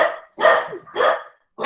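A dog barks three times in quick succession, loud and close, with short pauses between the barks and no talk.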